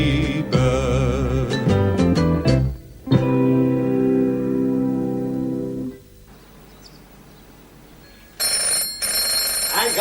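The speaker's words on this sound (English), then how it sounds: "The bloody phone." An old telephone bell rings in a late-1970s British sitcom set in Australia; a brief, bright ringing burst comes in near and loud at the end, right after a sung music passage fades to a quiet room.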